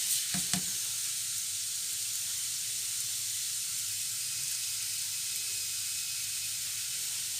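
A corn flour fufu crêpe sizzles steadily in a pan, a bright continuous frying hiss that holds level throughout, with a couple of brief soft knocks near the start as it is flipped.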